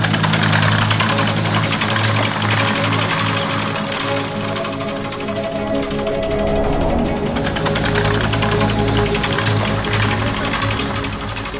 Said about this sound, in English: it was time to place drill bit number 1 and to start drilling.